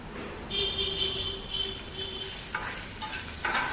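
Cumin seeds tossed into roasted green chillies in a hot pan for village-style kharda, giving a steady close sizzle with light stirring scrapes and a few clinks toward the end.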